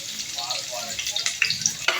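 Onion, garlic and ginger frying in watery oil for coconut-milk adobo, a close crackling sizzle with sharp spitting pops toward the end, fairly quiet and without talk.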